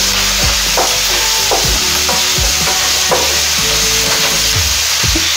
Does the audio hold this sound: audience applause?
no